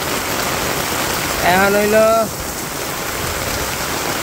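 Heavy afternoon rain falls on a Bangladeshi village in a dense, steady hiss throughout, and someone speaks briefly partway through over the downpour.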